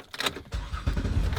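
A car engine cranks and catches into a steady idle, loud and close, after a brief mechanical click from inside the cabin.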